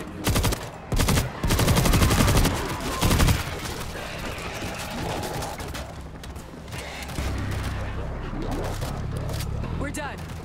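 The big gun in the World War Z video game fires heavy, rapid bursts of loud gunfire, a few stuttering volleys near the start, then mechanical clatter and rumble with voices talking over it.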